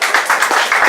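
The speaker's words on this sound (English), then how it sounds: "big round of applause" Brief burst of hand clapping from a gathered audience, several close, uneven claps in under a second with no voices.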